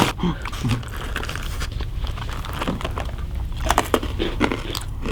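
Crispy Korean perilla seed gangjeong, a traditional grain snack, crunches close up in a run of sharp, irregular bites and chews over a few seconds, alone and loud at the mic.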